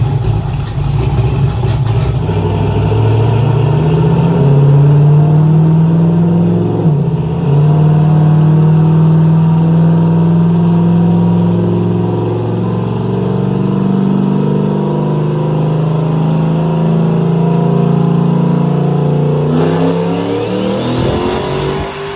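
A car fitted with a 98mm turbo runs on a dynamometer, its engine droning loudly and steadily with rising and falling pitch through a long pull, close and continuous with no talk.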